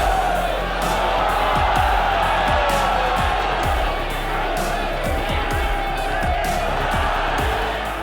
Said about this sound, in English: a high, consistent work rate sends the overly excited crowd celebrating every punch, kick, knee and elbow exchanged between the two fighters